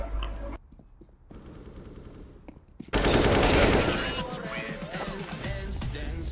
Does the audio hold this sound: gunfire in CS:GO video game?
yes